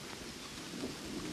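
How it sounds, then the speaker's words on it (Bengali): Heavy nighttime rain pours in a dense, constant hiss with a low thunder rumble underneath, fairly quiet and steady throughout. "হ্যাঁ বৃষ্টিটা তো বেড়েছে"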